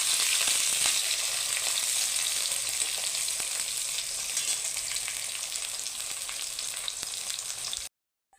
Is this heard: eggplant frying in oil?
yes